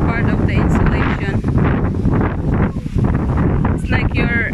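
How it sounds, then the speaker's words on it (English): Wind gusts roar against the microphone on a breezy Philippine beach, a steady loud blustering rumble with brief dips, while people speak underneath. "It's very breezy here, windy."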